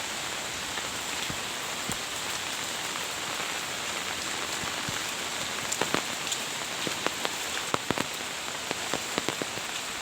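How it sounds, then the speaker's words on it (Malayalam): Heavy rain falls near a river, a dense, steady hiss of drops on surfaces with scattered sharper splats and taps standing out close by. "മഴ നല്ലോണം കൂടുന്നുണ്ട് കേട്ടോ."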